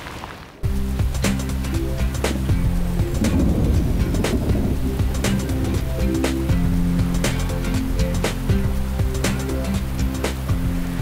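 Thunder rolls through a steady downpour during a thunderstorm at Blowering Dam, NSW, while fishing with graphite rods; the loud, continuous rain carries deep rumbling and repeated cracks with no speech.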